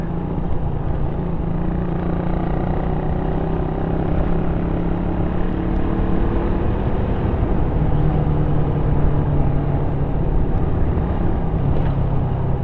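A motorbike engine drones steadily as the bike rides slowly over a rough, rutted road near Anda, Pangasinan, with the engine note rising and falling slightly throughout and no talking.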